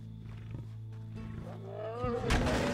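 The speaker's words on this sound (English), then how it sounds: "This is a real freaking lion." A lion in a Wild West circus setting lets out a loud, close roar that swells and rises near the end, with voices talking underneath.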